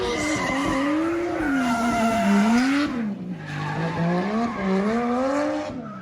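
Tires squeal loudly and continuously as a car drifts nearby, the pitch swooping up and down with the engine's revving.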